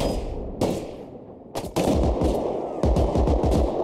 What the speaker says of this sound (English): Wait, did he shoot me through the metal?